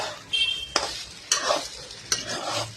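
Upma being stirred in a pan with a spoonful of ghee, giving several scraping stirs at a steady rhythm over a soft, close sizzle, with no voices.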